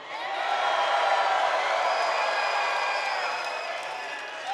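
A wrestling arena crowd claps and cheers in a dense, sustained roar that fills the hall, holding steady for several seconds before easing slightly.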